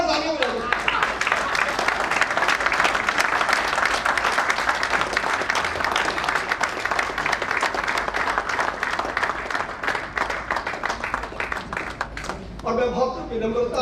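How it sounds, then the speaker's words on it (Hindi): A standing audience at a traders' national governing council meeting bursts into dense, sustained applause that lasts around twelve seconds before thinning out, with voices mixed into the clapping. "खड़े होकर एक बार 2000 तालियां बजाओ।"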